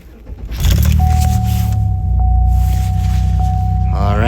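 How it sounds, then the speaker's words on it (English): A Chevy engine starts and settles into a loud, steady idle close by during an AC climate control repair, with a constant whine running over it. "I gotta turn on the vehicle now."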